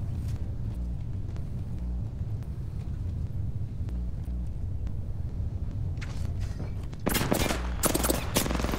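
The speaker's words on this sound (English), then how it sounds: "Getting shot at!" Gunfire in the video game Apex Legends: scattered shots over a steady rumbling game backdrop, then a loud, dense burst of rapid fire erupting close by near the end.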